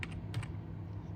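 Quick taps on a computer keyboard enter a password for FlatCUT CNC oscillating blade cutter software, about four light clicks in two short pairs over a low background hum.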